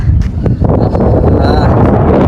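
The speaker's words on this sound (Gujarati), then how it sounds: "જોરદાર પવન આવે છે" Strong wind at Sagtala lake buffets the microphone with loud, gusty rumbling and roaring throughout, while faint voices sit under the noise.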